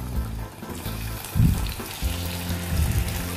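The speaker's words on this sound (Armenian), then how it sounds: "Եվ սկսում ենք տապակել։" Potato slices cut into rings sizzle and fry in hot oil in a pan, a steady crackling hiss with brief louder spatters as pieces are stirred, close up and without talk.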